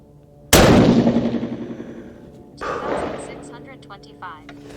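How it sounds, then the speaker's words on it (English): A 6.5 PRC rifle loaded with IMR4831 powder fires one sharp, loud shot outdoors that rings out in a long decaying echo, followed a couple of seconds later by a weaker second report. "We're going to shoot it for the group."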